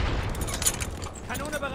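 Heavy cannon fire and battle noise in the WWII Stalingrad shooter Easy Red 2 boom loudly under German-shouting voices, with a dense crackle of gunfire filling the brief stretch.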